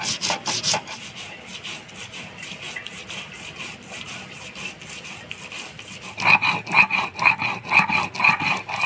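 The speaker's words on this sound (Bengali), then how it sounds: "কয়েকটা কাঁচা লঙ্কা অল্প লবণ দিয়ে একসাথে বেটে নিব।" Mustard seeds, green chillies and a little salt ground together on a grinding stone, a rough rasping scrape that comes in rhythmic back-and-forth strokes, quieter in the middle, then louder and more regular toward the end.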